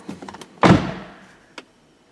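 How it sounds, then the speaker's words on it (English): A car door on a Saturn Aura XR, parked with the key off, is opened and shut: a few light latch clicks, then one solid close thunk followed by a brief click, nearby and alone. "maybe just open and close the door."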